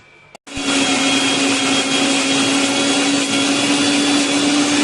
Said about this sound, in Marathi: तर मी आता हे मिक्सरला बारीक केलं.